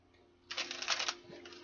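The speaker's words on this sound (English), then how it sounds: "2 more shuffles." A deck of tarot cards is shuffled once up close, a quick dry riffle of flicking cards lasting under a second, fairly quiet.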